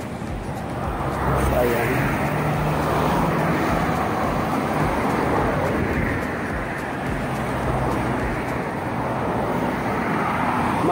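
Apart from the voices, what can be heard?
road traffic with many vehicles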